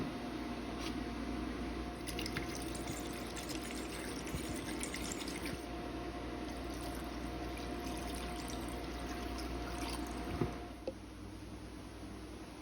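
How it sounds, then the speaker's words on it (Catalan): Cold water pours steadily into a large pot over fish bones, about two and a half litres, a continuous close splashing rush that ends with a brief clatter near the end. "Hi posem les espines i cobrem amb 2 litres i mig d'aigua freda."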